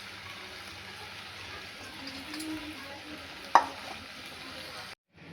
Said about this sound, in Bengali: এর মাছের মাথাগুলো দিয়ে দিচ্ছি